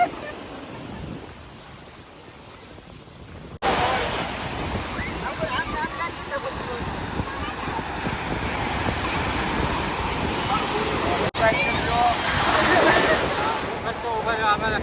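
Sea waves wash steadily onto the beach at Mahuva, a continuous rushing surf that swells louder partway through, mixed with wind buffeting the microphone.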